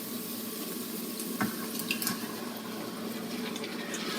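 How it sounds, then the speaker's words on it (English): Crushed tomatoes poured into a cooking pan for a pomodoro sauce, a steady wet splashing stream close by, running continuously with a few brief heavier splashes midway. "I've crushed my tomatoes. I'm going to just pour those right in that pan."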